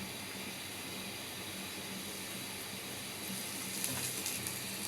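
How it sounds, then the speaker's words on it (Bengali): Cumin, garlic, onion and green chili frying in oil, a continuous soft hissing sizzle that swells slightly toward the end. "জিরা, রসুন, পেঁয়াজ, কাঁচামরিচ আর দিয়ে দেব"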